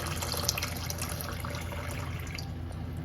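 Plenty of water is poured over washed dried peas in a bowl, left to soak overnight; a steady, close splashing rush of liquid runs throughout with no talking.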